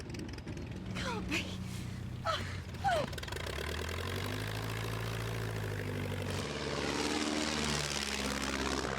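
A Spitfire propeller aircraft from a film scene roars steadily with a droning engine tone, with shouted voices over the start and the engine swelling and passing throughout.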